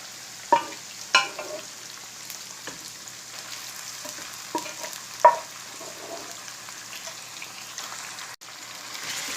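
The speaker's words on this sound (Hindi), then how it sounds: "ओजरी को हम अच्छे से भून लेंगे" Ojhri (tripe) frying with ginger in a pan, a faint, steady sizzle broken by a handful of soft stirring scrapes and clicks, with no speech.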